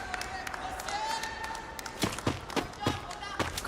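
A crowd at a Free Fire esports tournament cheers and applauds after a fight. The noisy roar carries sharp claps and thumps and sits under an excited commentator's voice.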